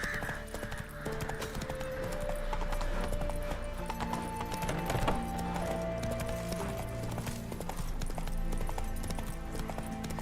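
A horse gallops in The Witcher 3 game, its steady clip-clop of hooves running under game music and ambient sound, with no talk over it.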